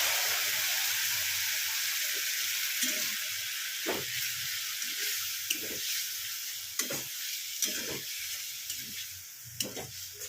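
Water poured into frying masala for a one-pot chicken pulao sets off a loud broad hiss of sizzling steam that slowly settles, with spoon stirs and scrapes knocking at intervals, close up, no voices.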